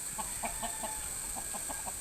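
Roosters cluck in short, evenly spaced bursts at a five-cock derby cockfight, fairly faint beneath a constant background hiss.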